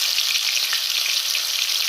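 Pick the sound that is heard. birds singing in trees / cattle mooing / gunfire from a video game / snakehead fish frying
snakehead fish frying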